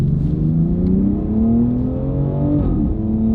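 A BMW X3 M exhaust revs up and holds a deep, droning growl, close and loud, with the pitch rising and settling over a few seconds.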